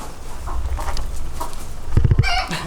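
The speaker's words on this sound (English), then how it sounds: "Oops, my chickens, guys." Chickens cluck close by, with a few soft, scattered calls followed by a quick burst of louder, clipped clucks near the end.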